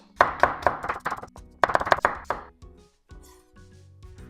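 Thin slicing for dragon roll sushi, a kitchen knife striking the cutting board in quick rhythmic bursts of sharp taps, close and clear, with a short pause before quieter handling noises.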